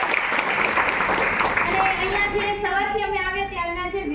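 An audience at an anganwadi gathering claps for the women in a dense burst of applause that fades after a couple of seconds, while a voice carries on over and after it.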